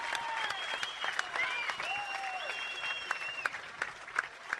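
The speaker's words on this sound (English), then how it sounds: "a big round of applause for probably one of the best Muay Thai fights on Australian" Crowd applause after a Muay Thai fight in Australia, steady dense clapping from a large audience with sharp individual claps standing out and whistles riding over it.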